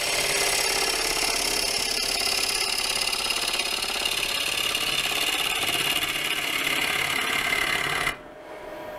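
A gouge hollowing into spinning wood on a wood-turning lathe makes a loud, continuous hissing, tearing cut that stops abruptly near the end, leaving a quieter motor hum, with no talk.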